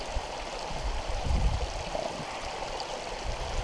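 Waterfall on a forest hike, water flowing steadily in a continuous close rushing wash with a slight low rumble, no voices.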